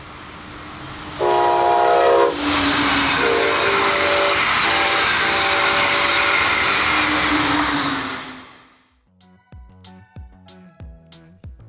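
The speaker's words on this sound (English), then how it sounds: "And here's a ground level catch of that same train." A Brightline passenger train roars past at ground level with a loud two-part horn blast, rumbling steadily for several seconds before fading, followed by faint clicking sounds after it is gone.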